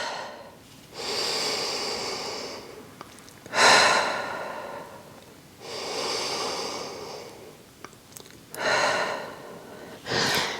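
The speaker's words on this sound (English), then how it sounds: "Inhale again through the nose. Exhale through the mouth." Slow, deliberate breaths during a Pilates reformer session: long airy inhales through the nose alternate with stronger exhales through the mouth, about four breaths close up with no talking.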